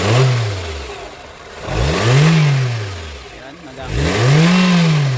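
A Renault Fluence engine with a throttle fault is revved three times, each rev rising sharply and then falling away in a loud swell close by, and someone speaks briefly.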